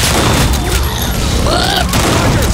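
Shotgun blasts from Left 4 Dead 2 come in a loud, dense barrage of close booms mixed with other gunfire, and voices speak over the shooting.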